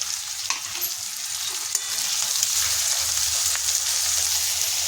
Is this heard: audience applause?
no